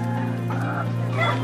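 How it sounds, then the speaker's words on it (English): Farm chickens, including black local hens, Indian broilers and silkie bantams, cluck and murmur nearby in a steady, loud stretch with a sharper call at the end. "we have black chicken, we have Indian broilers, and we have silk chicken"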